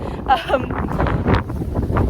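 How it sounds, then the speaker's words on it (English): Strong gusts of wind buffet the microphone on a hilltop in Edinburgh, a steady rumbling roar that swells and eases. A voice can be heard faintly under the blustery noise. "Oh, it's windy."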